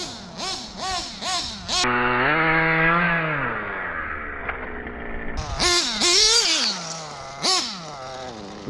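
Motorcycle engine with a Red's X1 exhaust pipe running at a high, uneven idle up close, revving in sharp bursts before settling into a steady rasp, then blipping the throttle again several times.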